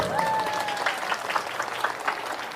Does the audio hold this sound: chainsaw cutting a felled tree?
no